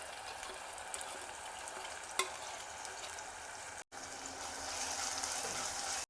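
A spoon stirs spiced stuffed brinjal curry in a pressure cooker, with a soft, continuous sizzle and scraping that breaks off briefly and then returns louder and more hissing.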